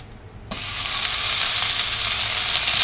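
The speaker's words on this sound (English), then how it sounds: "And then I'm going to add my tomatoes" Tomatoes hit a hot pan in a Cantonese tomato and beef dish, setting off a sudden loud sizzle that swells into a steady, close frying hiss.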